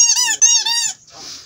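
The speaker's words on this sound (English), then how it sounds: "No beer in it, but it's a squeaky," A dog's rubber squeaky toy shaped like a beer bottle squeaks three times in quick succession, loud and close, followed by a brief soft rustle.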